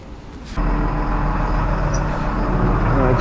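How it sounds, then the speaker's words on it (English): A farm tractor engine fires up after a brief quiet moment, then settles into a steady, loud low idle rumble that continues to the end. "Get the tractors all fired up."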